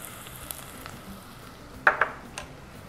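Onion and garlic frying in oil in a pot for Yemeni fahsa with meat, a quiet steady sizzle with a few light taps and a couple of louder scraping stirs near the end.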